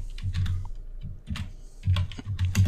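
Keys tapped on a computer keyboard while entering a SQL where clause for a hire date filter, in irregular close bursts of clicks with short pauses, no voice.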